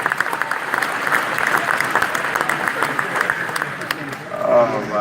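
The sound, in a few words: applause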